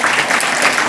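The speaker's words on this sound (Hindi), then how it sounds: "इनके लिए ज़ोरदार तालियां कीजिए" Loud, steady applause from an audience at a school farewell day celebration, honoring a young kindergarten student; continuous clapping fills the short moment without any talk.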